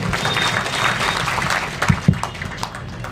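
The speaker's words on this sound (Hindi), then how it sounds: "जोरदार ताली होनी चाहिए सर के लिए" Applause at a district foundation day ceremony in Sitamarhi, a dense, steady patter of many hands with a couple of sharper close claps near the end, fairly loud throughout.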